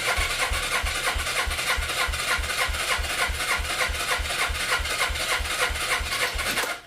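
A 1993 Suzuki GS 500 motorcycle engine cranks at full throttle with the key on, a steady, rhythmic starter churn of even compression pulses close to the mic that runs on for several seconds, then cuts off abruptly.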